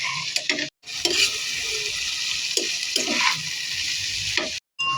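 Egg and bitter gourd (ampalaya) fry in a pan while a utensil stirs and scrapes repeatedly, the sizzle running steadily under the scraping strokes.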